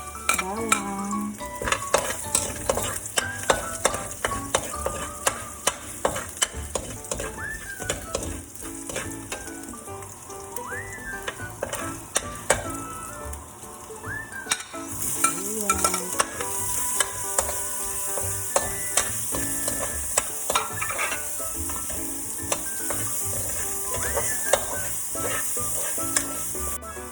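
Garlic sizzles and crackles in a hot pan while a utensil stirs it, with frequent metallic scrapes and taps against the pan over a steady close frying hiss that lasts throughout, no talking.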